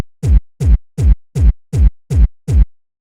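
Bass punch layer of a gated kick drum: seven loud, deep, thumping hits at a steady pulse, each swelling briefly and then chopped off sharply, leaving silence between them.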